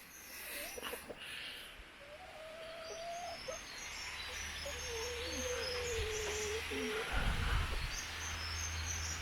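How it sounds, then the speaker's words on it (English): Free range chickens wander in a Chinese village in Zhejiang, with soft clucking calls and a few bird chirps at moderate distance over a low outdoor hum, plus a brief rustle near the end. "Free range chickens."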